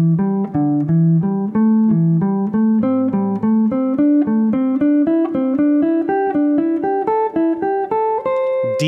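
Guitar running a pentatonic scale upward in groups of four notes: a brisk, even stream of picked notes climbing gradually in pitch, steady and close with no voices.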